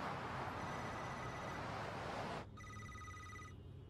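A telephone rings with a bright electronic trill, starting after a stretch of steady hiss and continuing for about a second, fairly faint and with no voices over it.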